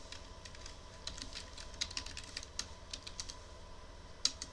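Someone types a table name on a computer keyboard, a quick run of light, close key clicks with irregular rhythm and one sharper keystroke near the end.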